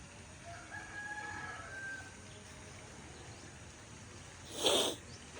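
A rooster crows once, fairly distant, over a steady background hiss, after a stretch of faint ambient noise.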